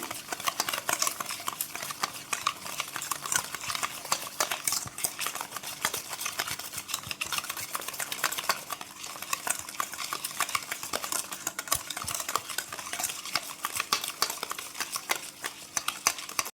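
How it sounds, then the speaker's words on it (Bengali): Sugar is rubbed and dissolved in a bowl with a hand mixer while making palm-fruit sandesh, giving a continuous dense scraping and clicking stir that stays fairly even throughout, with no talking. "হ্যান্ড মিক্সটা দিয়ে আমি এটা একটু ঘষে গুলে নেব চিনিটা"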